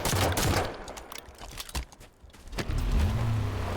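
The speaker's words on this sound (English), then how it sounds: "And it even has a little chain gun on it. Fires needles!" Needle-firing chain gun on a Warthog vehicle in Halo 5, heard as rapid rattling bursts of fire mixed with vehicle engine rumble and impact noise in a busy game scene.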